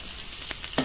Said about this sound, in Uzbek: Bir pas qovuramizda piyozni, keyin sabzini solamiz, sabzini qovuramiz.